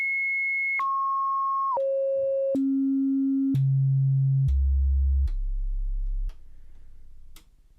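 A Befaco Even VCO modular synth oscillator plays a clean sine wave that steps down in pitch through about eight held tones, each a second or so long, alone and steady, ending in a soft low hum.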